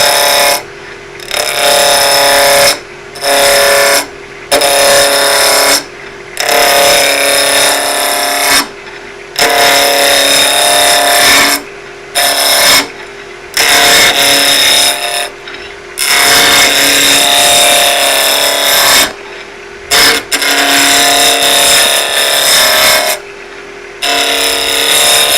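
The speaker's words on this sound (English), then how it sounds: "I've got my lathe speed around about 2000 to start off with" A wood lathe spinning at about 2000 rpm cuts the corners off a square blank between centres, a loud rough tearing scrape broken into repeated bursts with short pauses between passes.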